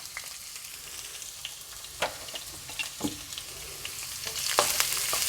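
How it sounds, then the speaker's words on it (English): Onions sautéing with crushed ginger, garlic and chilies in a pan for Mumbai misal, a steady close sizzle with occasional spatula scrapes and knocks, swelling a little louder toward the end. "Let's saute it for some time."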